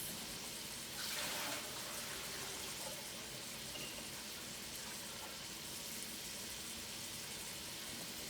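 Soaked red beans drain through a strainer as water pours in a soft, steady rush, faint and continuous, with a slightly louder surge near the start.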